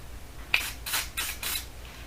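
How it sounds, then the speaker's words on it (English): WD-40 aerosol sprayed onto a price sticker on a diecast model to loosen its adhesive, four short hissing bursts in quick succession, close and fairly quiet, with no voice. "I'm going to spray this off camera over the trash can so I don't put a big plume of WD-40 in my room"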